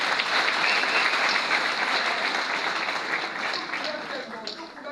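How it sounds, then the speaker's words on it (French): Audience at a political party gathering applauding a lawyer, a dense sustained round of clapping from a crowd that slowly tapers, with a voice talking over it. "Je vous prie de l'applaudir encore une fois"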